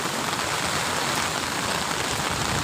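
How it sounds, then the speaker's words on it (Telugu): Steady rain falls outdoors in a dense, continuous hiss of drops hitting surfaces, close and even for the whole stretch, with no voices. "ఈ ఎండకి వర్షం పడుతుంటే"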